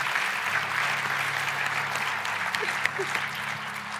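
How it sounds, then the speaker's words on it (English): A church congregation gives a big round of applause at a Sunday service, dense continuous clapping filling the room at a steady level, with some voices mixed in beneath it. "can we give a huge round of applause to Tanya and her family?"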